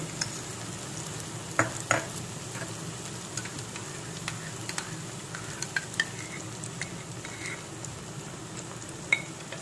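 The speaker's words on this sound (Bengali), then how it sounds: "এটাকেও আমি দু মিনিটের জন্য নাড়াচাড়া করে নেবো" Masala with cashew paste and whisked yogurt being stirred as it fries in a pan, a steady low sizzle with scattered spoon scrapes and clicks, close and continuous with no talking.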